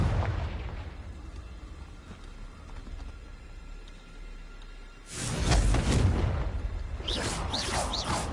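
A Confringo blasting spell in a Hogwarts wizarding game erupts into loud booming explosions after a quieter stretch, followed by further crackling blasts and debris bursts, close and without speech.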